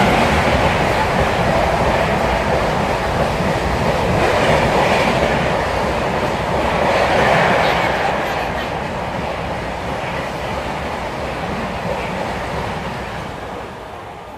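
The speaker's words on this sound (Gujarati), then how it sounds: "જો બીજી ફાસ્ટ ટ્રેન આવે." A fast express train rushes past near a village track, a loud continuous roar of wheels and carriages with rhythmic clatter sustained throughout, close and unbroken.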